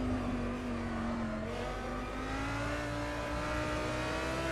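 Audi R8 LMS GT3 race car engine in the rFactor 2 sim racing game at Silverstone, a steady high whining drone with gradually rising pitch as it accelerates, continuous and fairly quiet with no talk.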